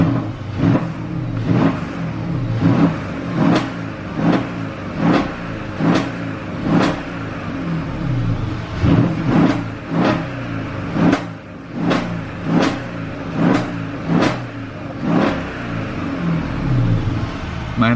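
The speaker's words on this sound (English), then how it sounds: "Let's get some revs going" A Mercedes CLS 550 V8 engine revved repeatedly while parked, about a dozen sharp throttle blips rising over a steady idle, close and loud, evenly spaced across the whole stretch.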